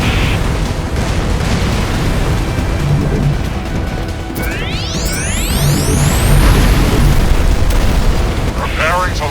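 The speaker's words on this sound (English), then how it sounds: "Preparing the Demolisher cannon to fire again." Demolisher cannon firing in the X-Morph: Defense video game, with loud booming explosions over a dense, continuous battle rumble and rising synthetic sweeps midway, a voice speaking underneath.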